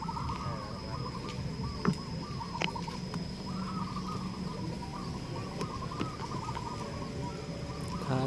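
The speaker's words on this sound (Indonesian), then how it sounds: "Ini perkutut saya sudah bunyi." Soft rhythmic cooing of a zebra dove at a perkutut singing contest repeats in phrases against a faint hum and scattered background noise.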